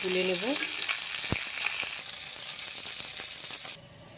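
Fish fries in oil in a wok, making a close, even sizzle with occasional crackles and light stirring. A short tonal sound is heard at the start, and the sizzle cuts off near the end.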